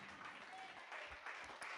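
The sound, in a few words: congregation applause for the Lord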